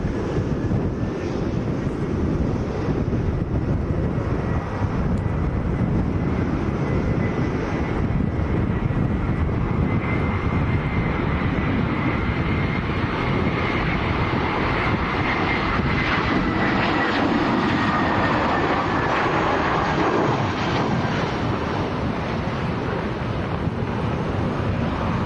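An Aer Lingus airliner from Dublin lands in a strong crosswind at Lanzarote airport, its loud engine roar swelling and holding steady amid heavy wind buffeting on the microphone.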